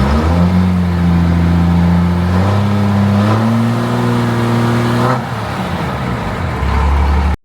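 A second-generation Cummins diesel truck engine runs near 500 RPM, giving a loud, steady droning rumble whose pitch drifts up and down slightly before settling, heard close and alone.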